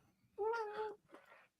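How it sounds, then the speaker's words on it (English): A pet cat meows twice up close, a clear rising-and-falling call followed by a shorter, softer second meow, with no other sound around it. "My cat is very vocal. He talks a lot."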